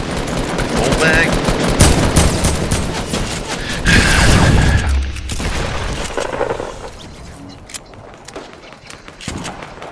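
Shotgun blasts and gunfire in a shooter video game ring out loudly and densely, heavy booming shots mixed with rapid firing and movement noise, with a player talking over the action.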